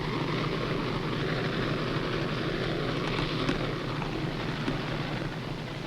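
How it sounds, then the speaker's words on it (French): Steady low drone of submarine engines running inside the Casabianca, a constant loud hum filling the space with no breaks. "Toujours ces moteurs. On a la tête qui pète."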